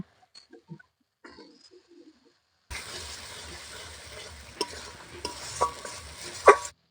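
Masala with tomato paste sautéed and stirred in a pan for chicken saaj pitha, starting after a few quiet clinks and scrapes, then a steady sizzle with spoon scraping and stirring taps, one sharper knock near the end.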